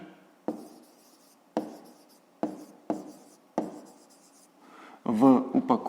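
Handwriting on paper while working out a 5th-grade maths word problem: several distinct scratching pen strokes in bursts, close and fairly quiet, ending with a brief moment of louder sound that may be a voice.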